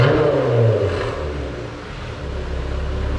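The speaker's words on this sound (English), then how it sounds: "The Corsa exhaust is installed. That's how it sounds on startup." A truck engine with a Corsa exhaust turns over and settles into a deep exhaust rumble, with a brief rise in revs before falling to a steady low idle.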